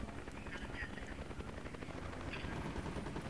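Military helicopters in the video game Project Reality, on an urban map at Karbala, give a constant dense rotor thrum with faint gunfire mixed in, steady and fairly loud throughout.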